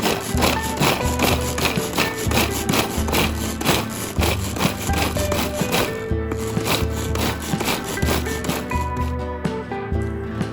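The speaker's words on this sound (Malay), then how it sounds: "Kesemua bahan ini kita kisar kasar menggunakan chopper." Electric food chopper coarsely grinding chillies, fennel seeds and other spices, a loud, continuous rough grinding and rattling close by, with brief pulses and a short break partway through.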